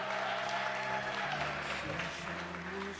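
Crowd applause fills a church youth ministry's sixtieth anniversary gathering, a steady wash of clapping that continues throughout with tonal sounds and faint voices layered beneath it.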